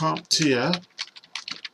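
Typing on a computer keyboard for a web search: a short run of quick, light key clicks after someone speaks briefly.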